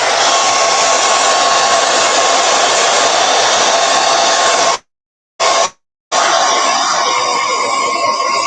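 A hair dryer blows steadily and loud at close range while drying freshly painted IKEA frames, its broad whooshing roar cutting out twice for brief silences before resuming.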